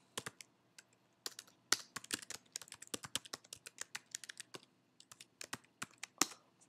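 Someone types on a computer keyboard, a quiet, close run of rapid, uneven clicks in short bursts with brief pauses between.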